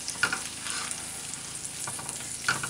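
Zucchini slices fry in a pan with a soft, continuous sizzle and a few light utensil taps, close and steady, with no speech.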